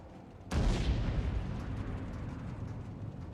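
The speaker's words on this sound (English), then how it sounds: "they're shooting the dwarf cannons there" Dwarf cannons fire in a fantasy battle game set in the Empire: a sudden loud booming blast cuts in sharply, then rolls into a long rumbling decay over the noise of battle.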